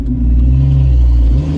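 A Jeep engine revs steadily while its wheels spin, a deep rumbling drone with a transfer case fault, loud and close, holding an even pitch before easing slightly at the end, with no voices.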